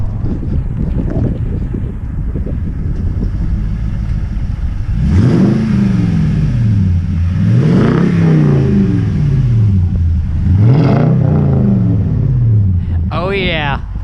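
A 2018 Toyota Tundra with a Flowmaster Outlaw exhaust, heard from inside the cab with the rear window down. Its loud, steady exhaust drone rises and falls through several surges of acceleration over wind noise, and a brief voice comes near the end.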